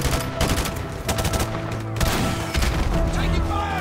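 Dense gunfire from a military firefight in the video game Modern Warfare, with rapid overlapping shots and bursts sustained loudly throughout under a bed of battle noise.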